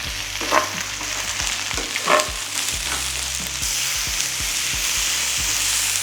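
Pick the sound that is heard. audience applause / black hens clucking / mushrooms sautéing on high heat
mushrooms sautéing on high heat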